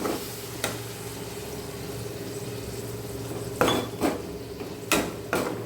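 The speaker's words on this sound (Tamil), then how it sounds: "இந்த சின்ன டம்ளருக்கு ஒரு அரை டம்ளர் தண்ணியும் இதில் சேர்த்து கொதிக்க விடணும்." Chicken 65 masala gravy simmering with added water in a pan, a steady low bubbling sizzle broken by several sharp clinks of a utensil against the pan, no talking.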